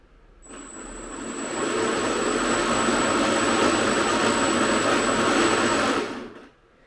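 Motors of an 80-inch DeBoer Seaview RC model boat running up on throttle out of the water, a whirring electric whine that swells in, holds steady at high pitch for several seconds, then winds down.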